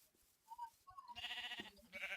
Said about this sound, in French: Donc on entend les jolis bruits des moutons.